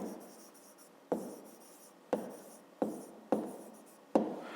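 Pen or chalk writing out numbers for a fifth-grade math exercise, scratching in five separate strokes, each beginning sharply and then fading, close and clear with no talking.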